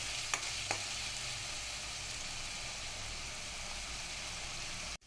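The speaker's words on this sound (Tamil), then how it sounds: "நல்லா அந்த பச்சை வாசனை போகிற வரைக்கும் இஞ்சி பூண்டு பேஸ்ட் நல்லா வதங்கட்டும்" Ginger garlic paste frying with onions in a pan gives a steady close sizzle, with a couple of faint clicks early on and a sudden stop at the very end.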